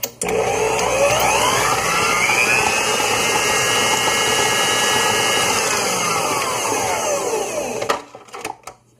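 An electric mixer beating butter for vanilla cupcakes whirs steadily at high speed for several seconds, close and loud, then cuts off, leaving a few clinks.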